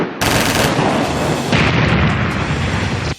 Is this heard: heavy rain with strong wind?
no